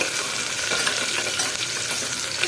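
Food fries in a pan until it turns brownish, giving a continuous, close, bright sizzle with light stirring scrapes and no talking.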